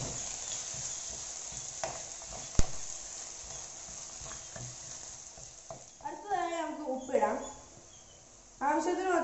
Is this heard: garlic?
yes